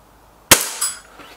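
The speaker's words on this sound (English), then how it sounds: "Shot four." A single suppressed air rifle shot from an SMK XS36 or Stoeger RX20 S2, a sharp close crack followed by a brief metallic ring and a faint pellet impact.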